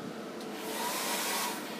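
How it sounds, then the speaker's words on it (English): Hairdryer running on a cheap Powerstar W7 inverter, a steady broad airy whoosh with a faint tonal hum, continuous and moderately loud, with no voices. "But when the hairdryer is switched on,"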